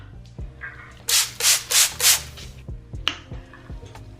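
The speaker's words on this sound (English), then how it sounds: "I'm going in with my NYX matte finishing spray." NYX matte finishing spray misted from a pump bottle, four quick hissing bursts in a steady rhythm, loud and close, with quiet background music underneath.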